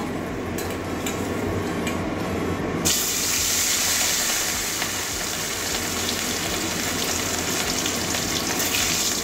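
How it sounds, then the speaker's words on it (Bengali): Fish pieces frying in oil in a pan for a Bengali katla fish curry, giving a dense, continuous hiss and crackle that stays loud and close throughout, with no talking. "বাকি মাছগুলো ওইভাবেই ভেজে নেব।"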